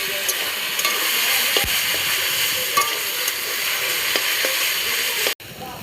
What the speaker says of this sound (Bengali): পাট শাকটি দিয়ে তারপর আমি নাড়তে থাকবো।